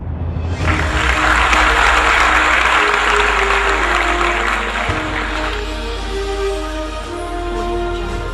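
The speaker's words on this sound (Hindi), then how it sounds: "जोरदार तालियां होनी चाहिए।" Loud, sustained applause from an audience at the inauguration of the Koilwar bridge in Bihar, opened by Union minister Nitin Gadkari. The clapping swells in quickly and holds steady to the end, with no speech over it.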